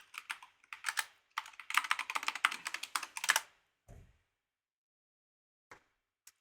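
Fingers tap out a root password on a computer keyboard, a near, brisk run of key clicks that speeds into a dense burst, then stops, followed by a low thump and two isolated taps in quiet.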